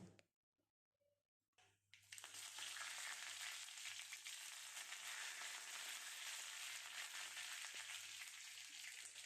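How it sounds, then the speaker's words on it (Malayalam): Mustard seeds and curry leaves spluttering in hot coconut oil, starting with a few faint pops and then breaking into a loud, steady crackling sizzle that runs without a break to the end. "വെളിച്ചെണ്ണ ഒന്ന് ചൂടായി വരുമ്പോൾ അതിലേക്ക് കടുകും കറിവേപ്പിലയും ഇട്ട് പൊട്ടിക്കുക"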